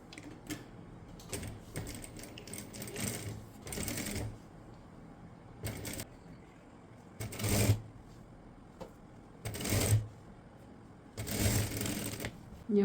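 A sewing machine stitches elastic onto a neckline in several short bursts of rapid mechanical chatter, separated by quiet pauses and faint handling noise.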